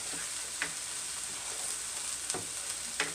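Bell pepper and onion sizzle in avocado oil with a little salt, a constant close hiss broken by a few light scrapes and clicks of stirring.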